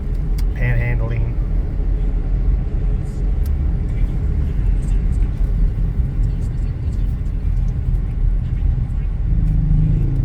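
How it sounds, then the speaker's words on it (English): A car sits in slow street traffic on the drive from Cebu to Sibulan, its steady low engine rumble continuous throughout, with faint passing vehicle noise around it. "So I was talking about how good the traffic was earlier, and we're, just sitting in it now"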